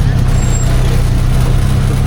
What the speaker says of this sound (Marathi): मंदिराच्या रोडला जाण्याच्या मार्गावर बघा किती ट्रॅफिक लागले इकडे